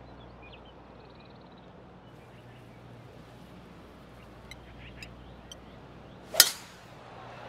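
A single sharp, crisp crack of a golf club striking the ball on a drive rings out near the end, after a long stretch of faint outdoor quiet.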